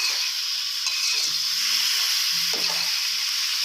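Chicken stir-frying in a pan with bell peppers and onion, a steady loud sizzle with brief stirring scrapes, no talking.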